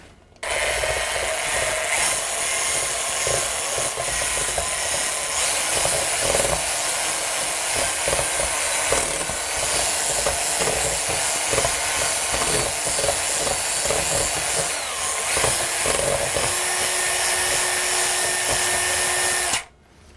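A loud electric mixer motor whirs steadily for about twenty seconds, its pitch shifting slightly as beaters whip eggs into butter and sugar, then cuts off abruptly.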